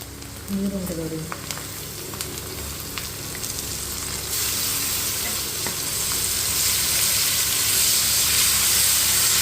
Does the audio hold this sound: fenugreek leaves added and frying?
yes